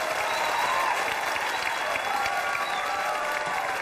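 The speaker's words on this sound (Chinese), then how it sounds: "掌声鼓励。" Audience applause at a televised Chinese talk show as a guest is urged to dance: dense, continuous clapping from a crowd, loud and steady for several seconds with faint murmurs underneath.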